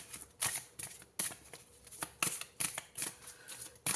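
Tarot cards are shuffled by hand in repeated quick riffles, each burst a crisp papery flutter, about eight close, fairly quiet bursts in a steady rhythm.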